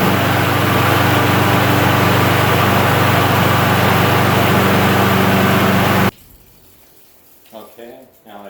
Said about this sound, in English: with new oil in the engine, we'll start it up again